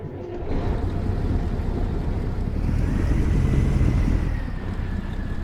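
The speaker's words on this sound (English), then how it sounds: "there's our engine malfunctioning" Steady broadband engine rumble and hiss from an in-game truck with a malfunctioning engine in American Truck Simulator, continuous and loud with a faint rising whine, no talking.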